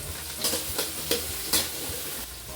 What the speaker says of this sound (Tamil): ஆனியன் போட்டுக்கிறேன்